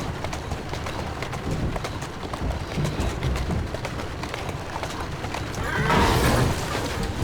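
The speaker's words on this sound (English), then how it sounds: "Who's a good horse?" A horse neighs amid steady, hurried clip-clopping hooves in the video game Assassin's Creed Syndicate, with a louder whinny near the end; the sound is busy and close, with no speech.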